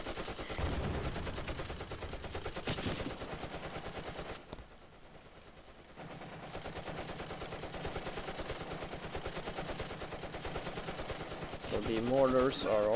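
Rapid bursts of heavy machine gun fire in the Close Combat tactical war game, dense and sustained with a short lull midway, under a voice commentating.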